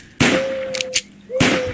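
Pistol shots in a video game crack out as two sharp, loud reports about a second apart, with a couple of smaller clicks in between and a steady tone ringing under them.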